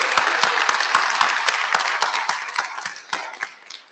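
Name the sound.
audience applause for the speakers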